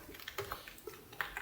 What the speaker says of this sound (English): then type GitHub underscore token equals, and then paste your token